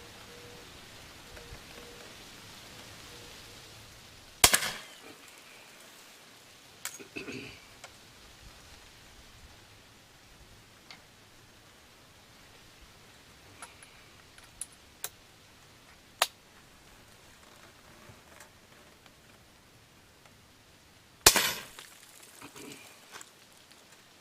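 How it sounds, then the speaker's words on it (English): Two loud, sharp reports from a Birmingham .32-20 kangaroo rifle with a 24-inch barrel, about seventeen seconds apart, are heard outdoors. A few fainter cracks and knocks, from 100-grain bullets striking targets, scatter in between over a quiet background. "Bullets exploding on those targets."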